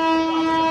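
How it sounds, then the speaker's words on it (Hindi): A metro train pulls in with a loud, close, steady tonal horn. The sustained harmonic note holds through the whole brief moment without speech. "metro I"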